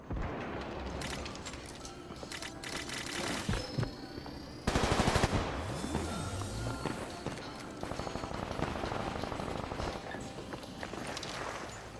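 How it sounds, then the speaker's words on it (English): Rapid automatic gunfire from shooters in the video game Combat Champions, bursts of loud cracking shots in quick succession with brief pauses, one especially dense volley midway, continuing to the end. "That was a lot of bullets."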